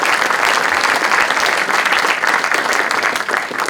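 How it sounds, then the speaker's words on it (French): An audience applauds two presenters after a talk on social listening at the Pierre Fabre group: loud, sustained, dense clapping from a sizable room, steady throughout with no voices over it. "Je vous demande de les applaudir pour cette brillante présentation."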